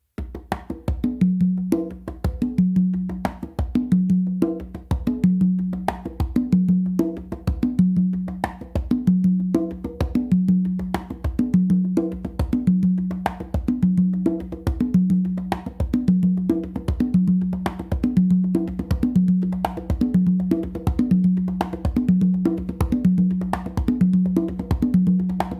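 Songo groove on three congas, a steady looping pattern of open tones and slaps repeating evenly from start to finish, close and loud with no talking.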